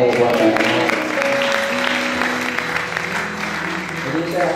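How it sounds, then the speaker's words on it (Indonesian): An audience at a church seminar on worship ministry claps together, a full burst of applause that slowly thins out, with voices and cheering mixed in under it. "Yang setuju katakan amin, tepuk tangan buat Tuhan."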